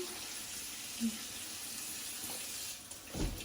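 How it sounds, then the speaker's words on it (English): Tap water runs steadily into a sink to rinse a kitchen strainer, a soft continuous wash of flow with a brief clink near the end and no talking. "I'm gonna wash this strainer real quick because I only have one."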